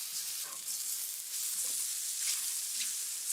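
Butter sizzling steadily in a hot pan at the start of a mushroom sauce, a continuous soft hiss with a few faint clinks and scrapes, no voices.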